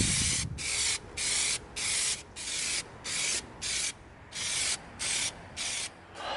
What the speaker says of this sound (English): We're going to use our Plasti Dip to seal our pickaxe.